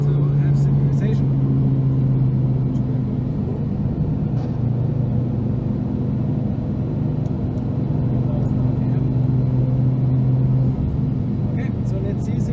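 A turbocharged Audi TT RS 8J with a 2.5 TFSI steel-block engine and a 600 hp turbo kit pulls hard in fourth gear, giving a loud, steady droning engine roar heard from inside the car.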